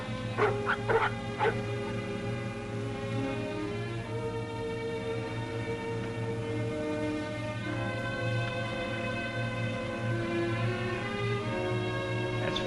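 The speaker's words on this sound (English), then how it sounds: "What in thunder is ailing those dogs?" Sled dogs in the Yukon bark and yelp in a few sharp bursts, then settle into whining and howling tones over a steady low hum. They are fairly close, and no one speaks over them.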